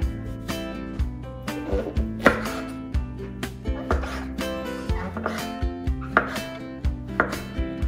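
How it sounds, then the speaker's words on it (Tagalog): Knife slicing king mushroom on a cutting board, a steady run of crisp chopping taps with a rhythmic pulse, heard over music playing in the background. "Next, slicing naman na natin ang ating king mushroom."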